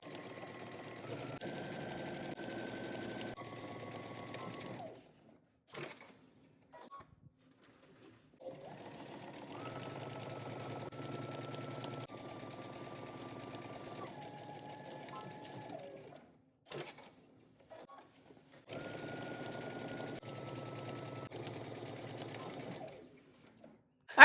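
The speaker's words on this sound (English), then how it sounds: "You're gonna stitch your side seams first, starting at the hem and working your way up using 5/8 of an inch seam allowance." A domestic sewing machine stitches the side seams of a jumpsuit in three steady runs of rapid mechanical whirring, separated by quiet pauses with small handling clicks.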